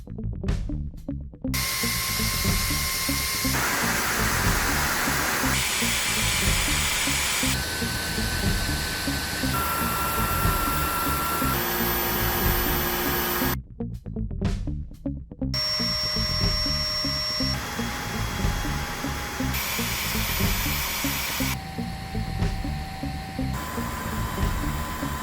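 Cordless stick vacuums, the LG CordZero A9, Samsung Bespoke Jet and Dyson V16, run in turn at each power level, giving steady loud motor whines and airflow that step up in pitch and intensity, separated by brief switching pauses.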